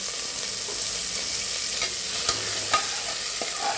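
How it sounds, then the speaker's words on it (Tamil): Ground onion paste sautéing in a pan for a parotta salna, a steady close sizzle with scraping stirs and occasional spoon taps, no talk. "வெங்காயம் வதங்கிட்டோம்"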